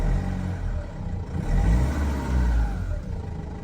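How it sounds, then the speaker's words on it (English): The engine of a 2005 Renault Master van revs while the van sits parked on a driveway. It gives a loud, close mid-range rumble that swells in two short rises and then settles back toward idle. "So now if I rev it a sec."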